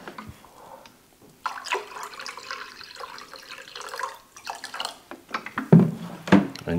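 A 50-50 mixture of vinegar and water pours and splashes into a container, starting faintly and growing into louder gurgling and dripping splashes.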